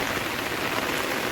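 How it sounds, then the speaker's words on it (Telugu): Rain falling on a home garden full of plants, a dense, even hiss of drops pattering on leaves and surfaces, steady and moderately quiet with no voices. "వాటరింగ్ చేయకుండానే ఇలా రెయిన్ వచ్చేసింది"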